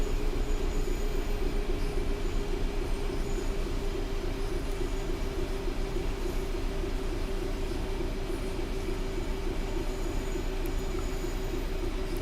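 Train rumble and wheel noise from a train in Train Sim World 4, braking early for a double yellow signal: a steady, loud, continuous roll with a low hum and faint rail squeal, no talk.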